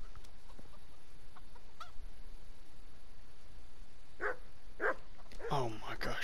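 Chickens cluck in the video game Kingdom Come: Deliverance, a few sharp bursts near the end that stand out over a steady background bed, with a short earlier click and no clear talk.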